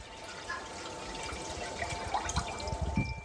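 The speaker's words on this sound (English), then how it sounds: "I like to take my water in a 1 gallon bucket and just pour it in here." Water from a one-gallon bucket is poured into a bucket feeder for spring bee feeding, producing a steady close splashing gush that grows more turbulent toward the end.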